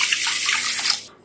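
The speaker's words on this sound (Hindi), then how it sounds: "1 गिलास पानी डालूंगी।" A glass of water poured into a cooking pot holding sugar, making a loud, close, bright splashing gush for about a second before it cuts off.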